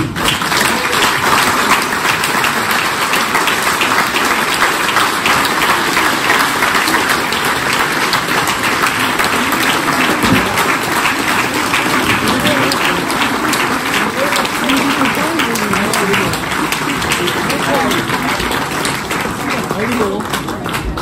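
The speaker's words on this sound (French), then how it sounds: "Vous pouvez applaudir." A large outdoor crowd applauds at the inauguration of a statue of Ulysses in Les Sables d'Olonne, loud steady clapping sustained for the full twenty seconds with faint voices mixed underneath.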